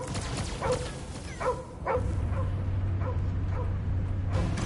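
A dog barks in the Guardians of the Galaxy video game, a series of sharp yips close up over a steady low rumble of game ambience.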